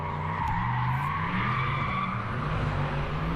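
The road-legal TurboShed drift car at Teesside screeches its tyres in a long sustained skid while the engine drones steadily beneath, close and continuous throughout.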